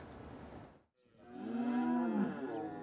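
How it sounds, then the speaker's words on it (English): Cattle on President Museveni's private farm in Uganda moo, one low drawn-out call after a brief rustle, moderately near and clear without talk. "At his private farm, Uganda's President Yoweri Museveni is admiring his herd."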